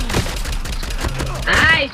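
Gunfire in the Garena Free Fire battle royale game: a rapid series of sharp, close shots in quick bursts, ending with a louder ringing burst near the end.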